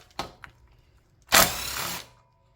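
An impact wrench takes off an ignition coil bolt on a 1985 Honda. A short tap comes first, then one loud whirring burst of about two-thirds of a second, close up, with quiet workshop background around it.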